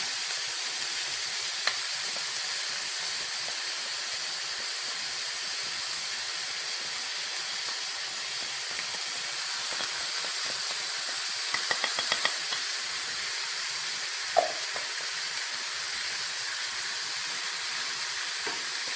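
Potato and chicken mixture for Moroccan potato croquettes sizzles steadily in a pan, a soft even hiss running throughout with a few small clicks of stirring, no talking.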